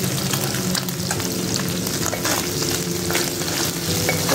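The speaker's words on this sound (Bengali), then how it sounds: "মাছের এক পিঠ ভাজা হয়ে গেছে আর এক ফিটে ভেজে নেবে" Mourola fish fries in a pan over low to medium heat, giving a loud, dense, continuous sizzle with a crackling, bubbling texture throughout.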